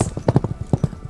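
Horse hooves clip-clop in a quick, even rhythm of sharp hollow knocks, close and clear with no other sound behind them.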